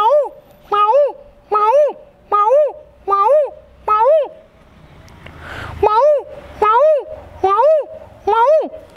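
A voice imitates a peacock call: about ten loud, close, rising nasal cries at an even rhythm, with a brief noisy gap midway before the calls resume.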